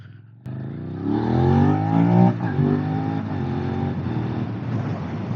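A Suzuki SV 650 motorcycle pulls away hard in first gear, its engine note climbing loudly from a low idle into a rising, revving roar that settles into a steady drone, close and unaccompanied by talk.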